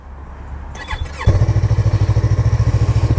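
A 2015 Yamaha R3 two-cylinder motorcycle with an Akrapovic exhaust cranks with a rising whine, then catches at once into a steady, close, even idle with a soft rhythmic pulsing.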